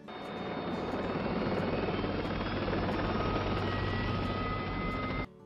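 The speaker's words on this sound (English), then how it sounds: "we are getting buzzed by this helicopter all morning" A helicopter circles low over a house in the Florida Keys, its loud, steady rotor throb and turbine whine filling the air. The sound stays continuous and close before cutting off abruptly near the end.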